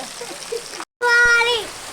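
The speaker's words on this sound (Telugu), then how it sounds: "సడన్గా వర్షం వచ్చేసరికి పక్కింట్లోకి వచ్చి దూరాము" Rain falling in a village, a continuous soft hiss of drops on surfaces; a voice rises over it partway through, after a brief dropout.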